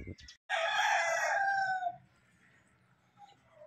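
A fighting rooster crows loudly and close by on a farm, one long cock-a-doodle-doo, followed by quieter farmyard background and a faint cluck near the end.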